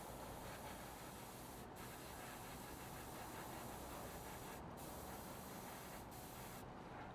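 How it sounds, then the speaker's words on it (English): Steady, close hiss of an aerosol spray can coating plastic parts of a 1/48 scale Revell Junkers Ju 88 A-4 model kit, continuous throughout with only slight breaks. "spray one side and wait for it to dry and then spray the other"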